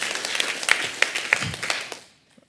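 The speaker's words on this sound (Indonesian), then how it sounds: "Tepuk tangan buat Tuhan Allah kita." A crowd clapping together in a dense burst of applause that fades out after about two seconds.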